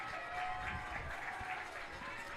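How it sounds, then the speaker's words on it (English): Fans at the Carmel vs Guerin Catholic girls' 2A high school lacrosse state championship game cheer and clap in a distant, sustained crowd roar, with a faint tone running beneath it. "Garen fans are already cheering."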